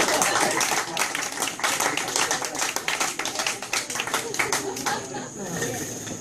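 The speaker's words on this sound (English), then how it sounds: "give him a big round of applause." A room audience at a magic show claps for a volunteer, a busy patter of hands close by and fairly loud throughout, with voices talking over it.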